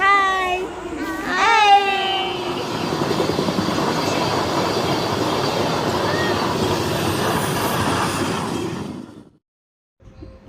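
A passenger train runs on its rails, heard from inside a carriage as a steady rumble of wheels. A voice and squealing tones sound near the start, and the noise cuts off abruptly near the end.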